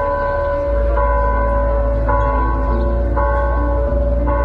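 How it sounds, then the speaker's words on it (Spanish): Basilica church bells ringing in honor of Pope Francis, loud and close, with sustained resonant tones and repeated strikes about once a second over a low hum. "las campanas de la basílica sonaron 100 veces en honor a Jorge Mario Bergoglio"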